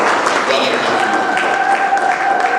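A church congregation at a children's event applauds, with a dense, steady wash of clapping and crowd noise that runs loud for the whole stretch, with cheering voices mixed in.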